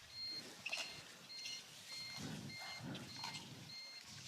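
Faint electronic beeps repeat at a steady rhythm in the background at a pickleball championship, accompanied by low rumbling and muffled activity.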